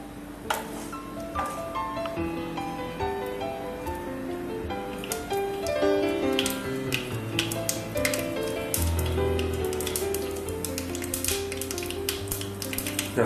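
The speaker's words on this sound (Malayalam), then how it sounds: "കടുക് പൊട്ടി തുടങ്ങി." Mustard seeds crackle and pop in hot oil, giving scattered sharp close-up clicks throughout over a steady tonal background that sounds like music.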